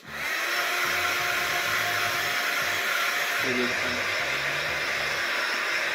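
A hot air tool blows steadily and loudly while heating EVA foam for a shoulder pauldron, a continuous whooshing roar with no pause.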